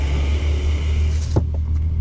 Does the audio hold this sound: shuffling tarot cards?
no